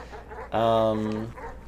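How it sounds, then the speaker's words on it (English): In the video game Animal Well, a dog gives a single loud, harmonic bark-growl of under a second as it attacks, set against quieter game background sound. "Now the dogs are going to attack me."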